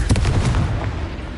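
Confringo fire spell blast from the Hogwarts Legacy video game: a loud, booming explosive burst at the start that rumbles and fades over about a second.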